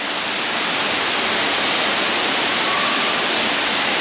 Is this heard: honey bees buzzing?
no